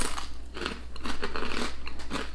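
Cheese and onion crisps crunched between the teeth in quick, close bites, each a sharp brittle crack followed by chewing, repeated steadily with no talking.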